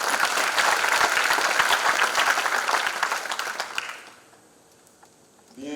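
A gospel concert congregation applauding loudly, a dense sustained wash of clapping that thins out and fades to near silence, with a faint voice rising at the very end.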